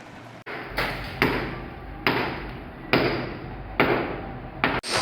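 Tiles are broken by hand with a hammer and chisel, heard as five or six loud, close, regularly spaced strikes, each followed by a brief rattle of debris.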